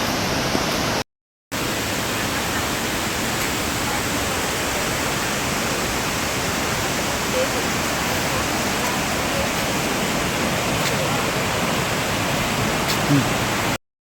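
The Khandadhar waterfall roars as a constant dense rush of water, loud and unbroken apart from a brief cut near the start.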